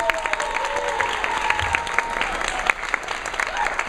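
A convention closing ceremony crowd gives a sustained round of applause, steady and fairly loud, with a few sharper claps and faint tonal sounds in the background.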